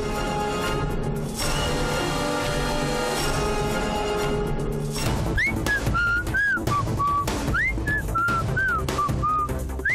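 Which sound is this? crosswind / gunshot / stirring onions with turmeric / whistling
whistling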